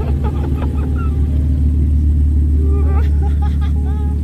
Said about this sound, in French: là, c'est déjà en train de rouler sur le circuit, je sais pas si vous entendez. Il y a de la Porsche qui est en route